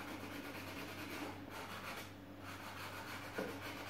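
Pastel pencil rubbing across paper while shading skin tones around a hair ribbon, a steady close, soft scratchy stroking sound that continues throughout with a faint low background hum.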